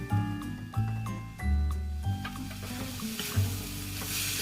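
Pork stir-frying in a wok until its liquid cooks off, a dry southern Thai curry-paste dish: soft sizzling sits under repeated low knocks and scrapes from a spatula, with a steady background hum.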